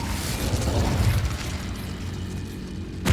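A fire spell blast from Hogwarts Legacy erupts as a loud, dense roaring burst lasting a few seconds, fading slightly before a sharp final crackle, with no talking.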